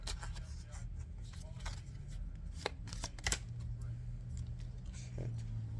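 Tarot cards being shuffled close up, a series of papery riffles and flicks over a steady low hum, with a louder snap of cards near the middle.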